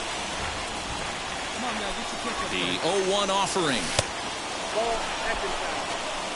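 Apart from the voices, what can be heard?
heavy rain during a baseball game in MLB The Show video game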